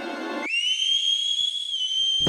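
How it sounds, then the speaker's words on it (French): A distant yet powerful whistle sounds, one long sustained tone held steady for about two seconds after a brief burst of noise, loud and alone. "Un sifflement lointain, puissant."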